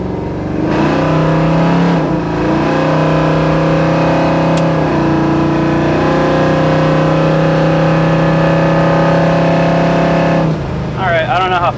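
A 1972 Chevrolet Nova SS with a lumpy cam accelerates on the road, its V8 roaring and climbing through rising revs with a shift, loud and close throughout.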